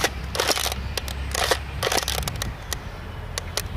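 Vintage Nerf Airjet Power Plus Fastblast blaster firing Whistler darts at angled shots, heard as a close, irregular series of sharp bursts and rattling clatter spaced through a few seconds.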